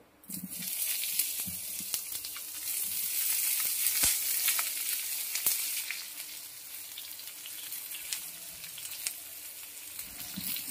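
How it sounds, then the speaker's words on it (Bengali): Thinly sliced small onions hit hot oil with bay leaf and panch phoron, hissing into a steady, bright sizzle that holds for several seconds with faint stirring clicks and no voices. "দুটো পেঁয়াজ নিয়েছি ছোট ধরনের, ঝিরিঝিরি করে কেটে নিয়েছি, এবার দিয়ে দেব"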